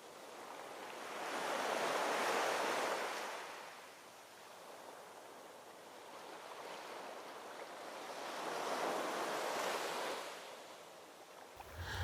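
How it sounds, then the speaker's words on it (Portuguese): Ocean waves surge and recede in two slow, broad swells of hissing surf, with a rushing, wind-like noise underneath. The sound is fairly quiet and distant, with no voices. "entre o barulho das ondas e o uivo do vento"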